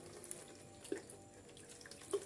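Rainwater trickles and splashes from a tap as a bougainvillea root is rinsed clean for bonsai, a soft continuous flow with a couple of small drips and splashes and no voices.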